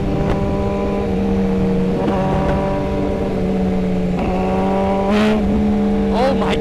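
A 2025 Suzuki GSX-R 1000 sportbike engine revs and holds a steady note on a ride, with harmonic rises and dips as the throttle changes, running continuously at moderate distance.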